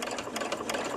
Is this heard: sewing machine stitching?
yes